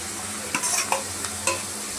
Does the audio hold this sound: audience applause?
no